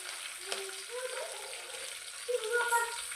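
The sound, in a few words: tempering spices with turmeric sizzling in hot oil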